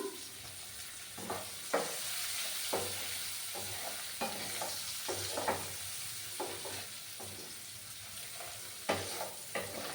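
Turmeric and green chillies fry in a pan while being stirred: a soft, continuous sizzle is broken by repeated scraping strokes of a spoon at an irregular pace, fairly faint, with no voices.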